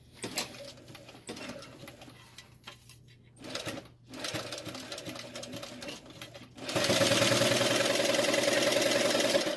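A sewing machine stitches leather, running in uneven bursts with brief pauses before settling into a loud, steady mechanical whir near the mic.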